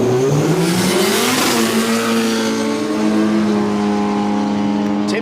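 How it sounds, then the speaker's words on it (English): A turbocharged Datsun with a CA engine launches at a Quick Street drag racing event, its engine roaring loud and near, pitch climbing through the gears. "here goes Tim, having a cracking day yesterday in the Turbo CA powered Datto"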